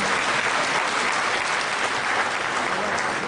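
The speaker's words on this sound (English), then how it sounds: "I think he deserves a more resounding applause" Loud, sustained applause from an audience at an Association for Consulting Engineering in Nigeria gathering, a dense unbroken wash of many hands clapping with no voices standing out.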